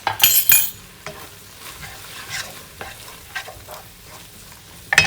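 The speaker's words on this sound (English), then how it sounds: "1 teaspoon chili powder, 2 teaspoons of garam masala, 2 teaspoons of ground cumin, and then just mix it up" A spoon stirs chili powder, garam masala and ground cumin into a masala frying in a pan for a spinach chickpea curry. Close scraping sits over a soft sizzle, with sharp clinks against the pan at the start and end.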